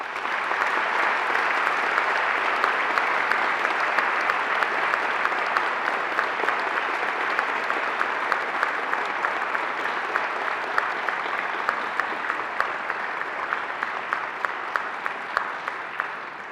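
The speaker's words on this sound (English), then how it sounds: "And now I invite you to give them an almighty round of applause." A graduation ceremony audience applauds steadily and loudly for the full length, dense clapping from a large crowd sustained without letting up, with no speech over it.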